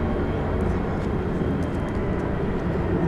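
An Airbus A321 airliner at DFW Airport rumbles steadily in a broad, continuous engine roar, moderately loud and unbroken.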